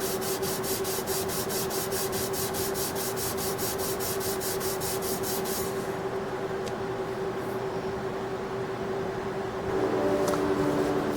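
Wet or dry sandpaper rubs back and forth on a titanium Sebenza knife handle in a fast, even rasping rhythm. The strokes stop partway through, leaving a quiet hum before a short scrape returns.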